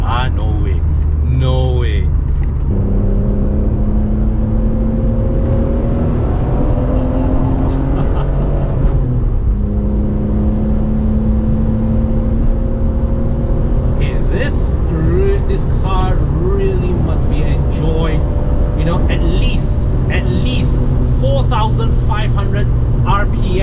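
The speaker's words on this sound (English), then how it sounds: "as you plant your foot down and the car just rev up and pull you along" Loud engine of a BMW M3 E46 Convertible revving hard under acceleration, its pitch climbing through repeated pulls with breaks between gears, with someone talking over the constant drone.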